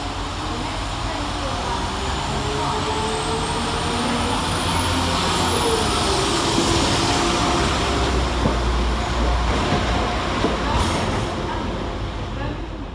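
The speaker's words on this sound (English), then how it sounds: "195010, departing 8 minutes late with the 11:44 Northern service from Lincoln Central to" A Northern Class 195 diesel multiple unit pulls out of Sheffield railway station on a Lincoln Central to Leeds service, a loud, steady engine roar that fills the whole stretch, with a faint high whine above it.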